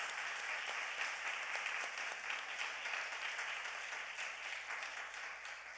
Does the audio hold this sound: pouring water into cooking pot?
no